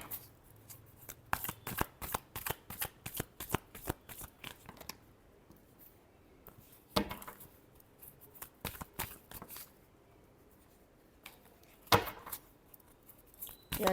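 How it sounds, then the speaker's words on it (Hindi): Tarot cards are shuffled in repeated bursts of crisp riffling and flicking, with short pauses between rounds, close and fairly quiet with no talking. "Last shuffle."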